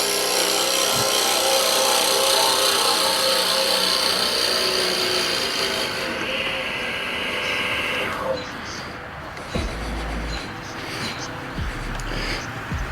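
A wood lathe for pen turning runs at full speed with a steady, broad whirring roar for most of the span, then drops away to quieter workshop noise with a few scattered knocks near the end.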